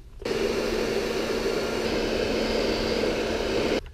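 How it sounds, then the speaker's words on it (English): A hair dryer blows at a steady, loud whoosh for a few seconds, with a constant motor hum, then cuts off abruptly. "this is a very expensive hair dryer, so I better be careful with it"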